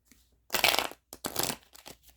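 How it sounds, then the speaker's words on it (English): A deck of tarot cards being shuffled by hand in a few brisk riffling bursts with brief gaps between them, close and clear, with no voices. "let me shuffle up these other ones before we jump into deck number 2."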